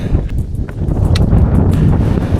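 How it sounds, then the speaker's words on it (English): Strong gusty wind buffets the microphone on the summit of Pen y Fan in a continuous low roar with irregular thumps, loud and close, no voices. "Bit windy."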